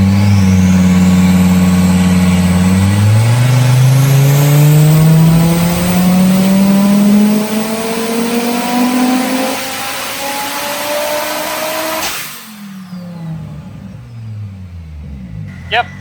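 An Audi 2.5 TFSI five-cylinder, DAZA/DNWA type as fitted to the RS3, TT RS and RSQ3, revs hard on a dyno pull: a loud, steadily rising engine note climbs for about twelve seconds, then cuts off sharply into a falling, fading wind-down.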